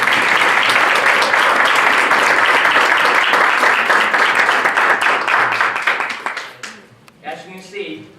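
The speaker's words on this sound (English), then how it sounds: "please give him a round of applause" Loud audience applause at a real estate business success event, dense continuous clapping that fades out near the end as a voice begins speaking.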